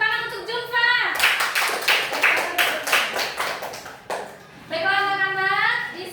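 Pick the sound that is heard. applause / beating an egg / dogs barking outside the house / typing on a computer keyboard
applause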